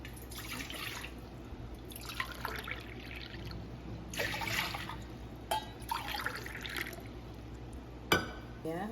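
Water trickles and drips in short bursts into a container for a health drink in a village kitchen, with clinking and a louder splash near the end, over a low steady background hum.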